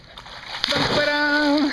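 A dog named Teddy jumps into water with a short, sharp splash followed by sloshing, close and fairly loud, with a faint voice in the background.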